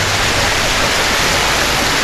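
Steady, loud rushing water where two rivers meet at a campsite, a broadband roar with no pauses and no voices.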